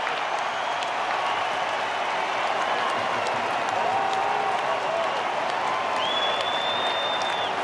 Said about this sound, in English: that really has brought the crowd to its feet